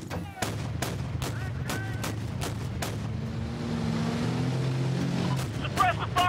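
Video game gunfire as suppressive fire, with sharp shots cracking in a quick irregular series over a rumbling engine-like drone, fairly faint and mixed with radio-style voices.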